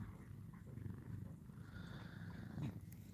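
A cat purrs steadily and softly at close range in a quiet home in the morning, a continuous low rumbling throb that holds for the whole stretch with no voices.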